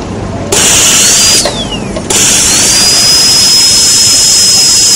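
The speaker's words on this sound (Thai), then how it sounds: "เราจะทำการเตรียมคาวิตี้โดยการใช้ราเบอร์นะครับ" A dental bur drilling a cavity preparation in a tooth for a Class V resin filling, a loud high-pitched whine that starts, briefly cuts out, then resumes and holds steady.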